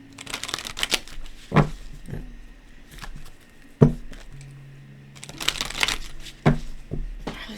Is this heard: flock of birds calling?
no